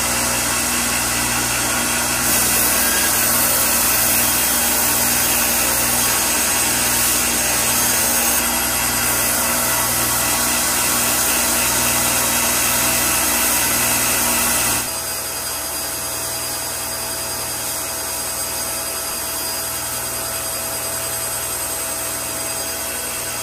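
A steady, loud power sander with 120-grit paper grinds continuously on a WW2 Marine Corps bolo machete blade, its pitch and level dropping partway through, with no voices.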